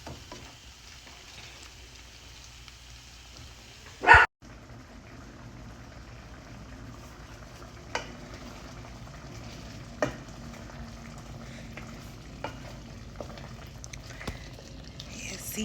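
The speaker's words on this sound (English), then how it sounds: "See, you just have to let it simmer until it thickens up" Red beans with a couple of jalapenos simmer in a pot, giving a faint, steady bubbling hiss with a few soft pops and one brief knock early on.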